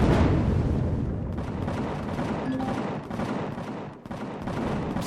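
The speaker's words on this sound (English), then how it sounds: "Quit shooting at me." Rapid, dense gunfire from turrets in the space game Empyrion, a loud continuous barrage with heavy booming bursts that briefly dips near the end before resuming.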